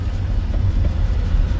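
A car engine drones loud and close, a steady low rumble that holds as the driver presses the accelerator during a clutch-and-gear driving lesson; no one speaks.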